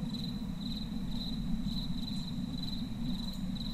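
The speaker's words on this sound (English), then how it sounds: "Too much sound, crickets." A continuous cricket chorus fills the dark setting of the game Hunted: One Step Too Far, an even, unbroken high trill over a low ambient hum, with no voices.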